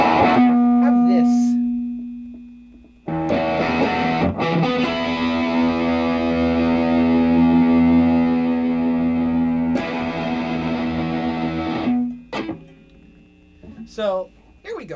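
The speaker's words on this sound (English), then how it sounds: "I recommend a lot of distortion, like 8 or 9. And also make your tone bassy" An electric guitar with heavy distortion and a bassy tone plays sustained, droning chords and low notes, switching between held passages with a few sharp breaks, and a voice speaks over parts of it.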